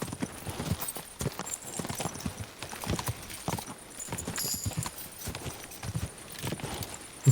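Horse hooves clip-clop in Kingdom Come: Deliverance II, a steady walking rhythm of hoof strikes close by, with faint background game ambience.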